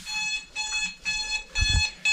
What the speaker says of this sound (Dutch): En daar gaat mijn wekker weer al. Jullie horen het.